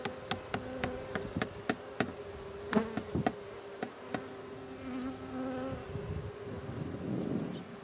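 Honey bees buzzing around an open hive during an inspection, a steady close drone broken by sharp clicks and knocks of the hive equipment, with no talk.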